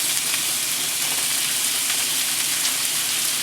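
Ground beef crumbled into a pan of onions sizzles with a soft, steady hiss and faint crackle, quiet and continuous with no talking.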